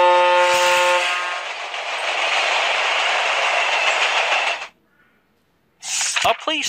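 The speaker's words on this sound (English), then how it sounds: "A train." A cartoon train passes with a loud, steady rumbling roar and a horn-like tone at the start, running for several seconds before cutting off; a brief voice follows.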